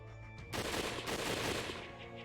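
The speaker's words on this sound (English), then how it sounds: "Then a gunshot rang from a distance and Nagakura's body shook violently" A burst of gunfire from a distance in the video game Hakuoki, a sudden loud broadband blast that swells and rolls on for about two seconds over a low sustained drone, with no talking.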